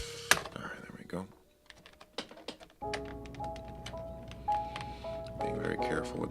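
Computer keyboard keys being dusted off during cleaning: a burst of close clicks and taps, a quieter pause, then continuous soft brushing and rattling over the keys.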